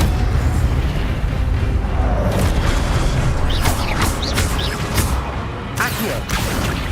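An Incendio fire spell from Hogwarts Legacy bursts out as a dense, loud roaring blast with crackling, booming game effects that stay heavy throughout.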